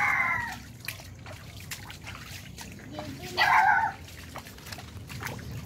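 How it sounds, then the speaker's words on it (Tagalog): A dog gives two short barks, one at the start and a louder one midway, somewhat distant over a steady low rumble and faint water trickling outdoors. "May aso."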